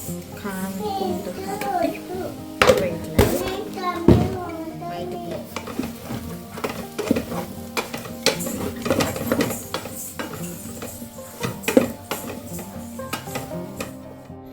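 Homemade garam masala, turmeric and spices stirred and fried in a pan for soya chunk pulao, with steady scraping and clinking of a utensil against cookware amid light kitchen clatter.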